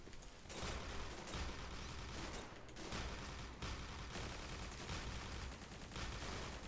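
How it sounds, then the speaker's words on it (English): Sustained bursts of gunfire in the G.I. Joe: Operation Blackout video game, dense and continuous with brief dips, loud and close throughout. "Is that you shooting against me?"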